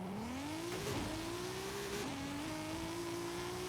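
A 1600HP Supra drag car launches in Forza Horizon 5, its engine holding a steady high drone, then climbing in pitch with brief dips at each gear change, loud and continuous throughout.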